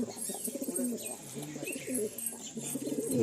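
Pigeons coo softly and repeatedly nearby, low throaty calls overlapping in a gentle, uneven rhythm with faint background chatter.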